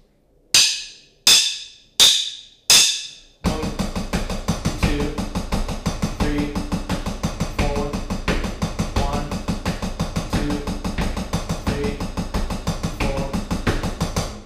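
A drum kit plays an exercise grouping eight notes over a quarter-note pulse, starting with four sharp count-in clicks and then settling into a steady, dense, loud groove with recurring accents, no voice.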